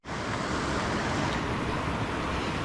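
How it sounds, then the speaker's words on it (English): Small waterfall on a mountain hiking trail near Bullhead Lake, a steady broadband rush of falling water close by, constant and fairly faint with no other sounds. "So here we are up to a little waterfall up going that way"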